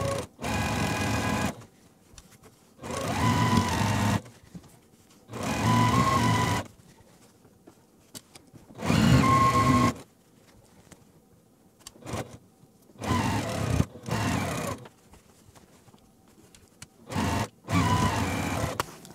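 A domestic sewing machine chain pieces quilt blocks, running in repeated bursts of one to two seconds separated by silent pauses, loud and close with no talk.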